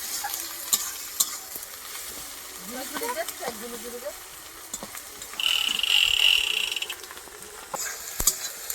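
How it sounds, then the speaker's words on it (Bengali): Onion, garlic, ginger paste and spices frying and being stirred in a pan during village cooking, a steady soft sizzle with scraping stirs, swelling louder midway, with some background voices. "মশলাগুলো একদম ভালো করে ভেজে নিয়েছি"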